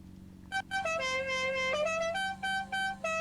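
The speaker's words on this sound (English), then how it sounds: "I want to hear plenty of honks as I go through the grid here" Car horns honk on a GT4 and TCR race grid at Road Atlanta in a series of sustained blasts and short toots, fairly faint and sounding from a distance over a low steady hum.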